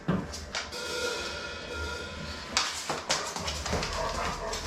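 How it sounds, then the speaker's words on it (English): Dogs whimper and yip in short bursts close by, with a few sharper yelps over a steady low background hum. "There's the dogs."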